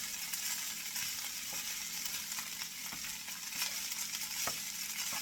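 Rice with egg stirred in a pan, close scraping and clicks of the utensil over a soft steady sizzle, repeating strokes with no talk.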